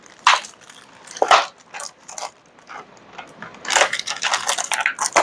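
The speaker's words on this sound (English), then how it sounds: "We've got a lot of tomatoes to cut up." A knife cuts through tomatoes on a cutting board for a quinoa salad, giving a series of close, irregular chops and soft squishes with short pauses between them.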